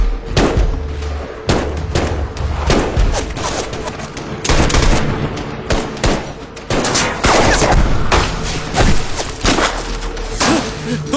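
Rapid bursts of video game gunfire crack repeatedly, mixed with heavy booming thuds, loud and close, with brief pauses between volleys.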